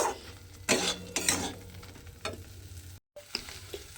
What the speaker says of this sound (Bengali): এইভাবে তেলের মধ্যে নেড়ে নেড়ে কিন্তু আমি এটাকে একটু শুকনো শুকনো করে নেব